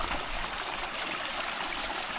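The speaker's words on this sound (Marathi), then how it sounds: "पाणी वरतून येत आहे" Water flows steadily down from higher ground into a rice paddy, a continuous close rushing trickle like a small stream, with no voices.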